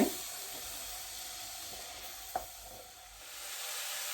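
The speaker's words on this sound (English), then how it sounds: "You want to give that a nice stir and make sure the onion is nice and soft and sweated down." Onion, garlic and ginger sweat in a pan for a chicken katsu curry, making a soft, steady sizzle with a brief scrape of stirring partway through, quiet and without speech.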